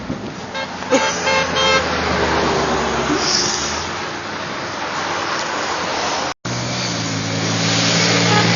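Truck horn honking outdoors over steady road traffic and engine noise, with a brief sharp honk near the start and another tonal blast toward the end, loud and close.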